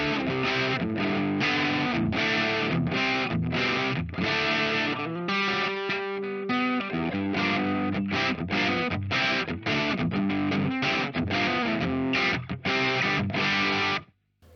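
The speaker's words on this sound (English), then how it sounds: "It's a crunch tone." Electric guitar played through a Plethora X5 on a crunch tone with delay and reverb switched off: punchy, distorted chords strummed in a steady rhythm, with a brief ringing chord midway and an abrupt stop at the end.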